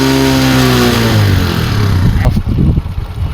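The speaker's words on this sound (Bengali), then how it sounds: "একবার গাড়ির সাউন্ডটা শুনেন।" A vehicle engine idles steadily with a droning hum, then revs up sharply toward the end with rough, rising bursts, close and loud, with no talk.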